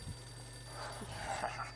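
A telephone rings in the Max Payne video game, a faint electronic trill rising briefly over a low steady background hum, heard at a distance with no one speaking.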